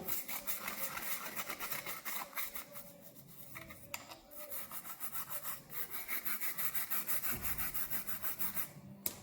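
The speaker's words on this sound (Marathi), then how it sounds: "ब्रशनी छान असं घासून घ्यायचं जे काही काळं मेनकट झालेलं असतं ना एकदम खराब ते सगळं निघून जातं" A brush scrubs a burnt kitchen strainer in quick, rhythmic back-and-forth strokes, close and steady, with a few brief pauses.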